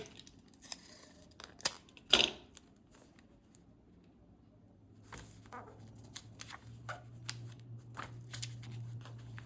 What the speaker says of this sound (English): Let's trim this little piece.